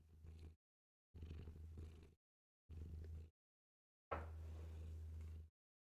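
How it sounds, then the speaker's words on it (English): A cat purrs close up in four rhythmic bursts, each a low rumbling drone lasting about half a second to over a second, separated by silent pauses, the last one longest. "Let's give the people some purrs."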